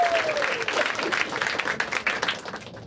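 An audience at a stand-up comedy show bursts into dense, sustained applause, many hands clapping together close and loud for a few seconds, with a brief voice at the start.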